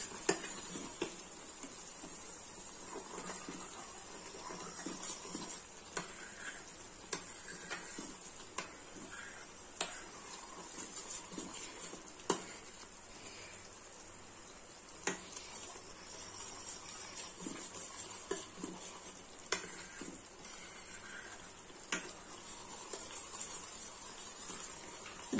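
Homemade ghee simmers while butter is clarified in a pan, giving off a quiet, continuous bubbling and crackle with scattered soft pops and light ticks over a long stretch.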